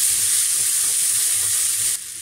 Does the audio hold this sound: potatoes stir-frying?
yes